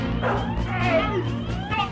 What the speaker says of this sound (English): You said there were no dogs!